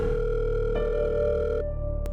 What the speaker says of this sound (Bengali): বার কয়েক রিং হতেই ডক্টর চৌধুরী ফোনটা ধরলেন